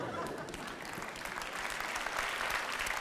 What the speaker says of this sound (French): juste un petit truc pour les applaudissements